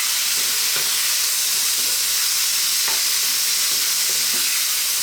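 Mushroom fried rice with soy sauce being stirred in a pan, a steady sizzling hiss with a few soft scraping strokes of the utensil, close and continuous with no voices.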